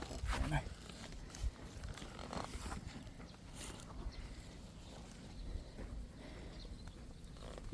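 Hooves of a working horse clop on the ground at an easy walk, irregular soft knocks amid handling noise and outdoor ambience, with people talking now and then.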